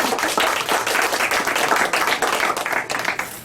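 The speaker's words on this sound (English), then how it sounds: "Clap." Radio show audience clapping on cue, a dense, fairly close patter of many hands that holds steady for a few seconds.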